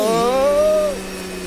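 A combustion engine revs in the Stormworks video game, a loud sustained engine tone rising in pitch then settling, close and alone.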